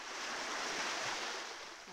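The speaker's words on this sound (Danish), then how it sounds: "Man kan høre bølgerne." Sea waves on the coast of Sardinia make a steady, broad wash of surf with no distinct breaks, faint and continuous, with light wind over the microphone.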